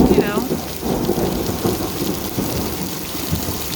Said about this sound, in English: I hope that this thunderstorm is still going on